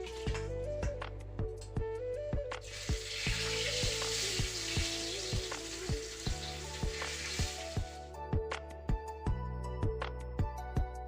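Fish fries in a pan with a close, steady sizzle that swells loudly in the middle, punctuated by regular clicks and taps of a utensil, and no voices.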